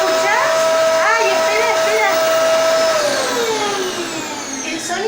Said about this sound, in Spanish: El sonido que estás escuchando, Dani, es el sonido de la aspiradora.